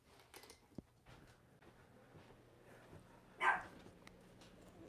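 A single dog bark sounds once, short and fairly close, against a quiet room with faint clicks and thumps around it.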